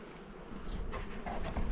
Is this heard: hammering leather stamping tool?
no